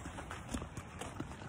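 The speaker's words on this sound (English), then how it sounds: "I am taking Click to the pasture" A horse's hooves clip-clop at a walk toward a pasture, several soft, evenly spaced steps close by over quiet background noise.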